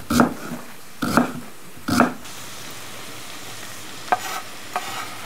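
Vegetables for soup, including chopped fennel, fry in a pan: three quick stirring scrapes open the clip over a soft sizzle, followed by a couple of lighter clicks and taps as the sizzling continues quietly.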